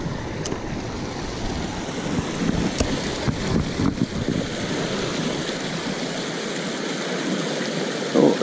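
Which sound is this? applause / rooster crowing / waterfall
waterfall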